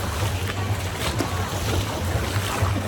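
Water in a water park wave pool sloshes and churns steadily nearby, with a rumbling low wash and wind buffeting the microphone throughout.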